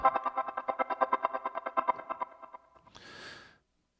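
Rapid synth arpeggio from an arpeggiator ripples through a held chord in quick, even pulses, fading out, followed by a short breathy noise.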